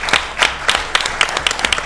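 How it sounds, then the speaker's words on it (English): Applause from the audience at a village board meeting, a short burst of loud, uneven hand claps close to the microphone. "I think that deserves a round of applause"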